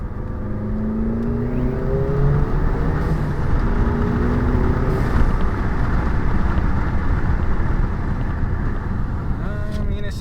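A muffler-deleted turbocharged VW Jetta GLI MK7 pulls hard in second gear, its engine drone rising steadily and filling the cabin with a constant, loud roar, while someone talks over it.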